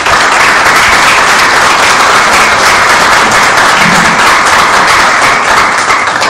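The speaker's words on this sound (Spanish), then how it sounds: "Vamos a darle un aplauso, ¿verdad?" Loud, close audience applause after a seminar panel, a thick continuous clatter of clapping that stays level for about six seconds without any voices.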